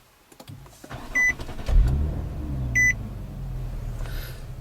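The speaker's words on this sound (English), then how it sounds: "you just fire it up this way, and you can hear the engine roar to life" A 2013 Infiniti G37 IPL convertible started by keyless push button, with chime beeps around the start and the engine catching and settling into a low rumbling idle.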